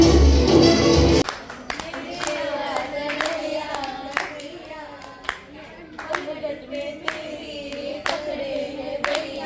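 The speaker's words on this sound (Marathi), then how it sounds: "एकदा जोरदार टाळ्या सिद्धेश आणि अमिताच्या लाडक्या बाळासाठी" An audience at a Marathi naming ceremony claps for a baby. The applause is steady and moderately close, with scattered individual claps standing out. A short burst of talk comes first, and faint voices continue underneath.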